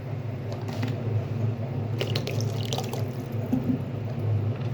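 A pot of water with salt and oil sits on a home kitchen stove, ready for boiling pasta. It gives a steady, fairly loud bubbling hiss with scattered small drips and splashes, and no voices are heard.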